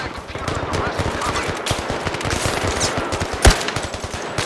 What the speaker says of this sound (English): Something is shooting at me.